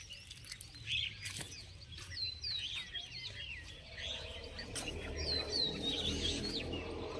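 Sparrows chirp outdoors in quick, high, scattered calls that repeat across several seconds at a moderate distance, over a soft rustling background with no one speaking.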